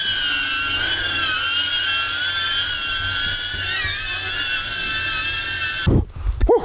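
A modded DJI Avata FPV drone flies in to land in cold weather, its high, steady propeller whine holding close and loud before cutting out abruptly near the end, leaving a few faint knocks.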